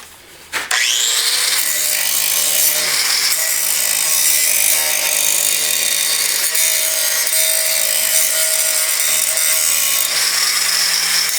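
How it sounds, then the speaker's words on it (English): An angle grinder smoothing a weld on a rusty 1959 Ford F100 truck cab corner, spinning up and then holding a loud, close, continuous high whine and rasp of metal grinding, no talk. "time for some grinding"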